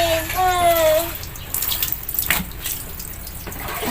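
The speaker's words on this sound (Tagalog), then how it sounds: "Pakipatay yung gripo, please." Water runs steadily from a tap during laundry at home, a continuous close splashing rush; a voice speaks briefly over it at the start.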